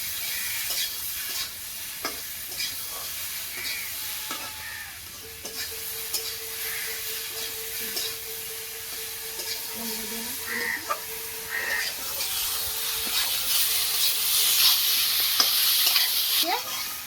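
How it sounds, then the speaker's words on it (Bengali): Spice paste with cumin and chili frying in a pan, a soft continuous sizzle with occasional scraping stirs and light clicks, close, with faint background sounds and a growing hiss near the end. "এই মশলা দিয়ে আমি লাল লাল করে ভেজে নেব"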